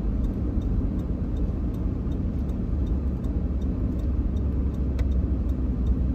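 A car driving through town, a steady close low engine and road rumble running continuously at fairly loud level, with faint ticking clicks over the top.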